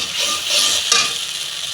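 Spice paste with ginger sautéing in a pan, a close, steady sizzle with a spoon scraping through it, one sharper stir near the middle.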